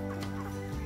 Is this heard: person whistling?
no